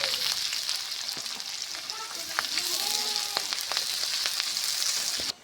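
Green chili and chopped onion frying in a pan, a loud steady sizzle close up with small pops and scrapes of stirring throughout, cutting off abruptly at the end.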